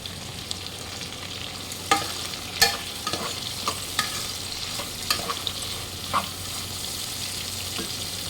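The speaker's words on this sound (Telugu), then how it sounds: "ఇప్పుడు ఇందులో టమాటా ముక్కలు వేద్దాము. టమాటా ముక్కలు వేసాక కూడా కాసేపు మగ్గనివ్వాలి." Tomato pieces fry with browned onions in a pan for Godavari prawn biryani, a steady sizzle under occasional spoon scrapes and clinks, close and continuous, with no voices.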